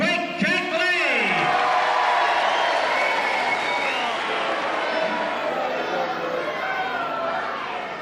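A wrestling crowd at Walthamstow cheers and applauds loudly throughout, a dense sustained roar of many voices with shouts rising over the din, while an announcer talks over it early on.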